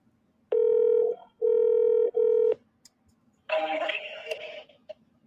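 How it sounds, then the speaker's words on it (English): Telephone dialing tones: three loud, clean tone bursts in quick sequence, followed after a pause by a rougher ringing or connecting signal. "Dialing."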